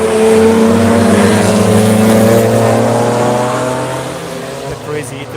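Cars, among them a BMW E36, accelerate hard along the Nürburgring, their engines roaring loud and close with rising pitch as they pass and slowly fade. Voices talk over the engine noise.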